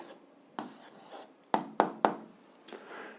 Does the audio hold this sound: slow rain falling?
no